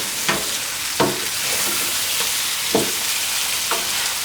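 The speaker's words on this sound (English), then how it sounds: "So we're just going to stir fry this for about 2 minutes" Onions stir-fry in hot oil with a loud, steady sizzle, broken by several distinct scraping strokes of the spatula spaced roughly a second apart.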